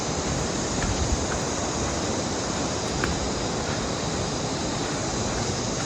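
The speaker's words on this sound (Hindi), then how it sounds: "ये नीचे झरना बह रहा है" Waterfall flowing below a mountain trail about 100 metres down on the Madmaheshwar route in Uttarakhand, a broad continuous roaring wash of water with no breaks.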